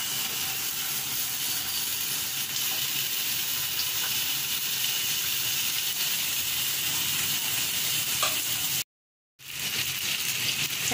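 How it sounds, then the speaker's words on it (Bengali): Sausages fry in a pan on a medium flame with a steady, dense sizzle and hiss, broken by a brief full silence near the end before the sizzling resumes; no talking. "সসেজগুলোকে এবার আমি হালকা ফ্রাই করে নেব। এটা আমি মিডিয়াম ফ্লেমে ফ্রাই করব।"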